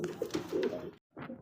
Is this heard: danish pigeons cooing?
yes